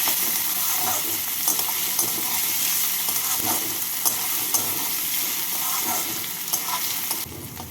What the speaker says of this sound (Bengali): পেঁয়াজ কুচিগুলোকে রসুনের সাথে হালকা ব্রাউন করে ভেজে নিচ্ছি